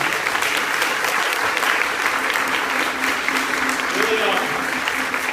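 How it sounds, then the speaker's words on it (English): Steady applause from an audience at a live talk event in Vancouver, a dense continuous clapping that fills the room at full volume throughout. "another round of applause for Colin."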